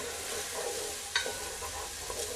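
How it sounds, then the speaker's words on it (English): Garlic goes into a pan of scallions over low heat, giving a steady close sizzle with stirring scrapes and a brief sharp clink partway through; no one speaks. "I'm just adding in now the garlic."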